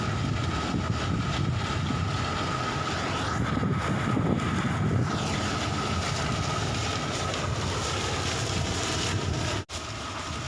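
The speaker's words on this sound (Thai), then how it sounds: "ลมพัดแรง" Strong wind blows across sugarcane fields during harvest, making a loud, continuous rushing roar with a steady low rumble that barely changes and drops out for a moment near the end.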